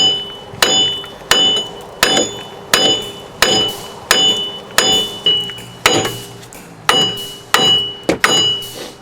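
A 2.5 pound hammer strikes a 2001 Pontiac Grand Am front wheel hub again and again in a steady rhythm, a dozen or more sharp ringing metal clanks up close.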